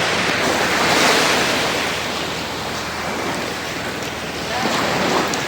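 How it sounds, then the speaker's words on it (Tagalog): Choppy sea surf rolls in at the shore of Puerto Galera, Mindoro, as a dense, continuous wash of noise swelling and easing, mixed with wind buffeting the microphone. "Medyo maalon ngayon."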